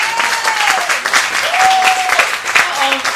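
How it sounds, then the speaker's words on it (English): A crowd at a press launch applauds loudly and steadily, the close, dense clapping running throughout with a voice or whoops surfacing briefly over it. "Rachel got a bigger round of applause than you did"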